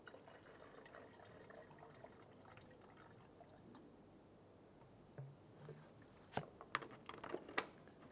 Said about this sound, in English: we're going to pour this coolant into our new bottle